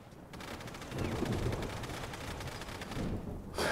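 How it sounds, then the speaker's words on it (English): Enemies fire automatic weapons in Fallout London, a sustained rattle of shots at mid distance that swells and holds, ending on a sharper louder crack. "They're firing at you too."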